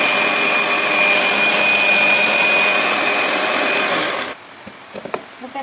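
A kitchen mixer grinder whirs loudly and steadily while grinding spice paste, then cuts off abruptly after about four seconds, leaving a few faint clicks and knocks.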